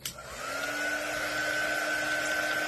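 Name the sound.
hair dryer drying paint on mason jar door hanger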